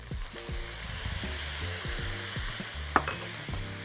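Beef mince with lemongrass sizzles and fries steadily in a hot pan while being stirred, with a sauce being added; the frying hiss is continuous and close, with a sharp scrape of utensil against pan near the end and no talking.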